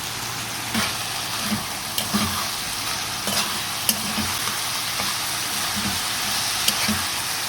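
Wild shiny bush greens stir-fry in a pan, giving a continuous close sizzle with scattered crackles and stirring scrapes, and no talking.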